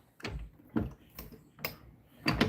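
Wooden or metal drawer in a workshop beside a lathe, with several short knocks and slides spaced about half a second apart, close and moderately loud, no talking.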